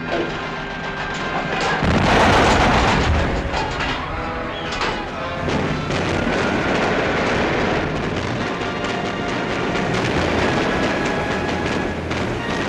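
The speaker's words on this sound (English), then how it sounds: "Commence firing!" Warship guns fire in a naval battle off Okinawa in a war film, a loud, dense, continuous barrage of booms and rumbling blasts with a big burst near the start and sustained roaring after.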